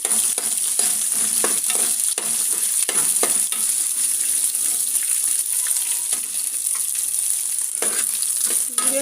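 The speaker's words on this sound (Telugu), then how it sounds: "అన్నీ ఇలా వేగిపోయినాక వేగిన నెత్తలని పక్కా తీసుకుంటామండి" Small anchovy-like fish frying in oil in a pan, a dense, even crackling sizzle running unbroken throughout, with occasional stirring scrapes.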